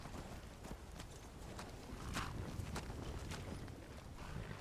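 Horse hooves clip-clop in the video game Skyrim, a quiet, irregular series of hoof strikes over a low background rumble.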